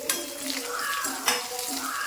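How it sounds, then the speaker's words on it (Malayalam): Garlic and ginger frying in oil for a dried mackerel chutney, a close sizzle under clattering utensil and pan knocks from stirring, brief and busy. "വെളുത്തുള്ളിയും ഇഞ്ചിയും കൂടെ ഈ എണ്ണയ്ക്കകത്ത് തന്നെ ഇങ്ങോട്ട് വറുത്ത് കൂടിയെടുക്കും"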